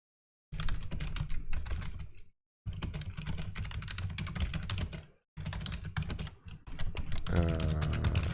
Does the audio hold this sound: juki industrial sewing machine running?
no